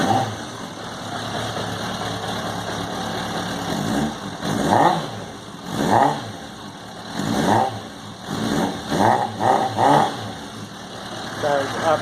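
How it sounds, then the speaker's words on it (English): A 2001 Suzuki Katana 600cc motorcycle with a Yoshimura exhaust idles with a deep, throaty note, then revs sharply several times in quick bursts, the blips rising and falling close by. "The nice Yoshimura exhaust."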